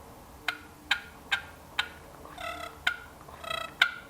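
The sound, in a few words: turkey call imitating turkey clucks and yelps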